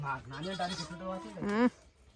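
A goat in a village gives two close, loud quavering bleats, the second longer and higher, with quiet background after.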